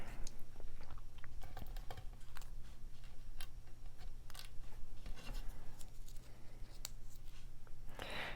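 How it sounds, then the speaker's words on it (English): Scissors snip and trim thin craft foam for handmade cards, a quiet run of small irregular clicks and cuts over a low steady hum, close and faint. "So I'm going to bring in some thin foam. It might not be thin enough. Just cut a piece and trim it down a little bit."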